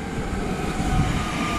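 A Koleje Małopolskie passenger train passes at Tarnów station, a steady, loud rolling rumble with a thin high whine, and no voices.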